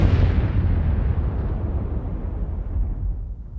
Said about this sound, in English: this fireball exploded